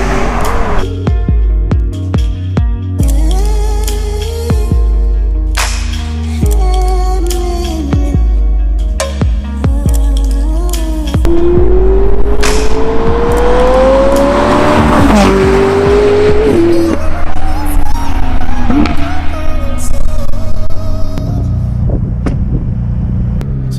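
A stock McLaren 675LT's engine, twin-turbo V8 with factory exhaust, revving and pulling hard: rising, falling engine tones, sharp blips and crackles, then a long loud acceleration sweep, very close and powerful.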